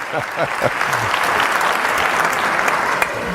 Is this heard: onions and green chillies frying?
no